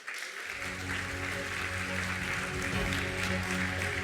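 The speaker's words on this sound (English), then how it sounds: "Give us a big round of applause." A crowd applauds at a university awards ceremony within a commencement, the clapping rising quickly from silence and holding steady and dense throughout, with a faint tonal hum beneath.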